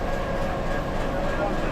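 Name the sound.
Kurigram shuttle train at station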